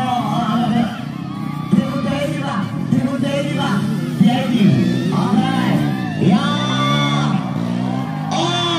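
A crowd at a motocross event whoops, shouts and cheers in a dense, continuous roar, with bursts of clapping and a voice calling over the noise.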